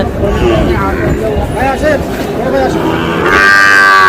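Sahiwal cattle low repeatedly at a crowded livestock market in Dhaka, with several drawn-out moos close by over a constant babble of human voices.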